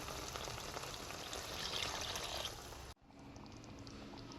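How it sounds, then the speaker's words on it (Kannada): Water poured into a pan of fenugreek leaf sabzi cooking in oil, a loud steady rushing splash that cuts off abruptly, leaving a quieter simmering hiss. "ಈಗ ಸ್ವಲ್ಪ ನೀರು ಹಾಕೊಳ್ಳೋಣ."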